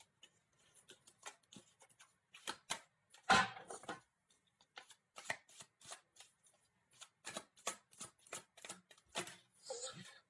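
Tarot cards are shuffled in repeated crisp riffles and flicks, with one louder snap near the middle, close and fairly quiet in an otherwise silent room.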